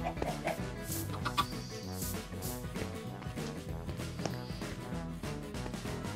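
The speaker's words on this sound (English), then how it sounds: "Oh, we have two chickens now." Chickens cluck in a video game with a chicken generator, their calls mixed into dense, steady game music that runs throughout.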